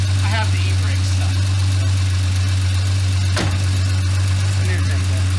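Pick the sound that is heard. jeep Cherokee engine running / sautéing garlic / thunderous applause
jeep Cherokee engine running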